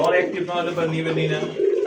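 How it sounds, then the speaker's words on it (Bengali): Pigeons coo in a low, rolling murmur, close and fairly loud, mixed with someone talking over them. "নর ডাক নাই দেখেন ডাক ছাড়া কথা নাই ভাই প্রত্যেকটা কবুতর"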